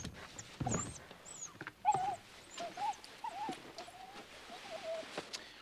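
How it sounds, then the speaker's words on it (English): A dog whimpers and yips in a run of high, wavering cries with a few sharper barks, close by and fairly loud against a noisy background. "This dog has gone nuts."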